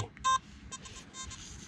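An electronic beep from a metal detector sweeping a playground, a short bright tone standing out clearly once over faint low rumble and scraping, with softer blips after it.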